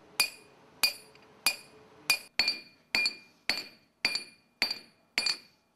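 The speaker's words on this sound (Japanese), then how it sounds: "まず出来上がった地金を締め打ちします。" Ten evenly spaced, ringing metallic strikes of a hammer tightening freshly made forged metal stock, each a sharp bright clang with a short decay, close and fairly loud with no talk.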